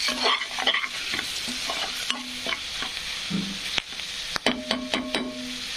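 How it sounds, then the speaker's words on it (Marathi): Spices with red chili powder and plenty of turmeric sizzle steadily in hot oil while a spoon stirs and scrapes the pan, with intermittent clinks, all close and with no talking. "हळद थोडीशी जास्त टाकायची आणि छान त्याचे असं फ्राय होऊ द्यायचं"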